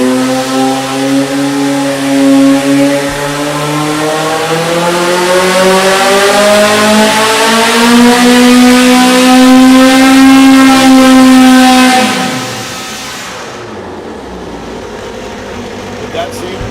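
An EMPI engine revs hard on a dyno pull, its tone climbing and holding high and loud for about twelve seconds before dropping away sharply as the throttle closes. Someone talks over the roar.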